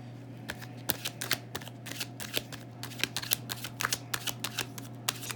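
Tarot cards are shuffled by hand in a quick run of crisp riffling bursts that grow denser and louder toward the end, close and clear with no talking.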